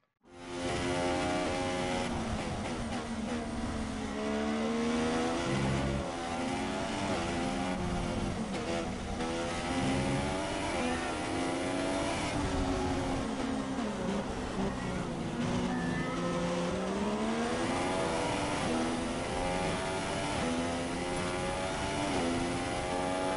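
An F1 car engine from the F1 2016 video game at Melbourne, wailing steadily through a lap as the pitch climbs and drops with gear changes, loud and continuous throughout.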